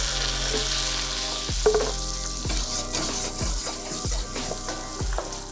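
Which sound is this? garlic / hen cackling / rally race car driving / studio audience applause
garlic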